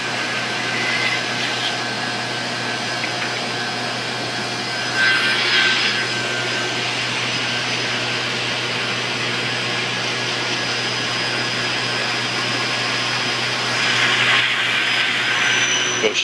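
A cooling tower water pump runs with a steady, loud mechanical whir and hum, and brief bursts of hissing rush rise above the drone twice.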